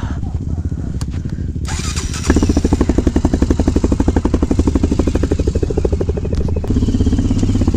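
A dirt bike engine warms up on a trail ride, starting up and settling into a loud, steady near idle with a rapid pulsing beat that rises in intensity partway through.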